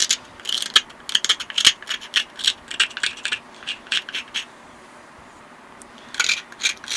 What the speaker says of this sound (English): for the final touch, I'm going to grind the base